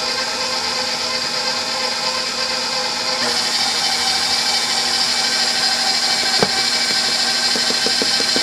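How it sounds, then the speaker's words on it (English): A stand mixer fitted with a dough hook kneads cinnamon roll dough, a steady loud motor whine and churning running throughout, with a sharp knock partway through and faint rhythmic thumps near the end. "We're going to bump our mixer up just a little bit."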